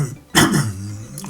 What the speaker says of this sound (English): I've got a bit of a cough this morning